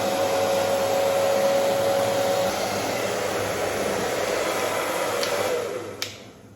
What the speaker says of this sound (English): I can just use the blow dryer to speed up the process.